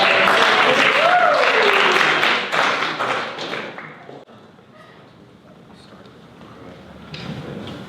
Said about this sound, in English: Can we get a round of applause for our